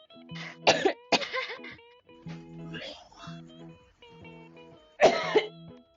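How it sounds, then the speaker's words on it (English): A person coughs sharply a few times, close by, while a melodic Valorant game tune plays softly underneath. "I don't know who just like coughed and then spat in the background"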